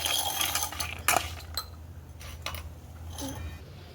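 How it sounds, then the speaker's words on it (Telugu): Green chillies and chana dal are stirred while roasting in a pan, with a metal spoon scraping and clinking against it in scattered strokes over a faint sizzle. "పచ్చిమిరపకాయలను శనగిత్తులు వేయించుకుంటున్నాను"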